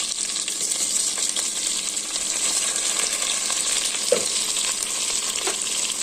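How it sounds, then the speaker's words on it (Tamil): Small onions sauté in a pan with whole spices like cinnamon, cardamom and cloves for channa biryani. They make a constant, close frying sizzle, with a couple of faint utensil clinks, and no voices. "நல்லா ப்ரௌன் கலர் ஆகிற வரைக்கும் நல்லா வதக்கணும்"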